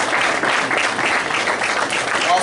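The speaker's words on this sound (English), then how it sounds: "If we could give them a big round of applause." Audience applause at a high school hall of fame speech evening, a dense, steady wash of clapping held throughout at full strength, with faint voices mixed underneath.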